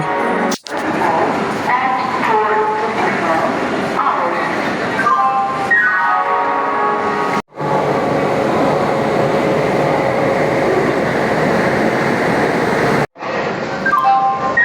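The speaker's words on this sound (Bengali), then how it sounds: "আমাদের বন্দে ভারত এক্সপ্রেস চলে এসেছে।" The Vande Bharat Express pulls into the platform at Howrah station with a loud, continuous rolling rumble layered with rising and falling electric whine tones and a few abrupt breaks.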